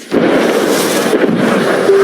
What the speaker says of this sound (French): Il y a eu des coups de feu.